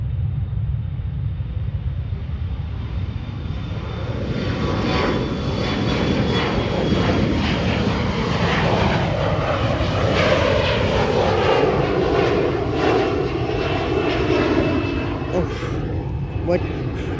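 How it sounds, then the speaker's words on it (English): A fixed-wing airliner takes off at George Bush Intercontinental Airport, its broad engine roar swelling and then fading over a steady rumble, with people talking faintly nearby. "there's a plane gonna take off right now"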